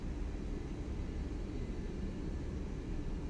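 A Boeing 787 Dreamliner taxiing in the X-Plane 11 flight simulator gives a steady, moderately quiet jet engine hum with a low rumble and airy hiss, unchanging throughout, and no voices.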